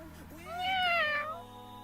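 A human voice imitates a cat's meow in the video game Love and Deepspace, a single drawn-out, rising-then-falling mew lasting about a second, clear and close.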